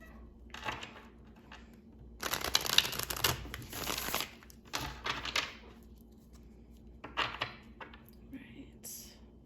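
Tarot cards are shuffled close by in several crisp riffling bursts separated by short pauses, with soft papery handling in between.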